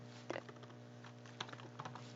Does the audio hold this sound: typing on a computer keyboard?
yes